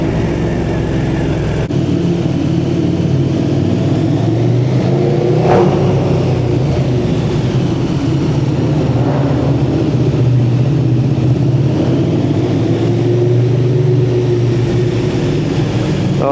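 A Yamaha MT-09 triple-cylinder motorcycle engine revs loud and close, its drone climbing and easing in long sweeps, with one brief sharp crack partway through and no talking.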